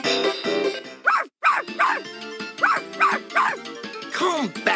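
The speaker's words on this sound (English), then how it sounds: "Come back here, you stupid dog." Puppy barks from the PS1 game 102 Dalmatians: Puppies to the Rescue, a rapid run of sharp yips and bow-wows, close and loud, with a brief gap partway through.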